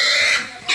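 Pigs are being loaded onto a truck for hauling, and a loud, close, harsh grunt or squeal fills the brief moment before a second grunt begins.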